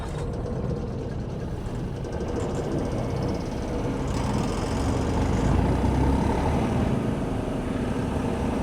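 A Först TR8 tracked wood chipper engine idles just after starting, a steady low mechanical rumble running unbroken and fairly loud throughout with no talk.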